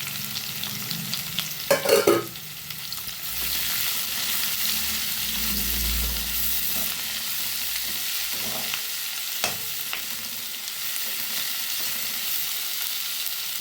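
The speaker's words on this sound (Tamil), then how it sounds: "போட்டு கொஞ்சம் நல்லா இது வதங்கட்டும். பீர்க்கங்காய் தோல் போடலாம்." Ridge gourd peel sautés in a pan for a thuvaiyal, giving a steady close sizzle with repeated stirring scrapes and a brief clatter near the start.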